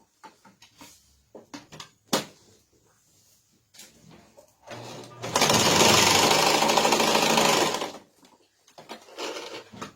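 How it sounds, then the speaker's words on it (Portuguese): Sewing machine reinforcing a seam on a fabric Tilda lamb toy, stitching in one fast, loud continuous burst of about three seconds, framed by quieter handling clicks and taps before and after. "a gente vem pra máquina e a gente reforça a costura"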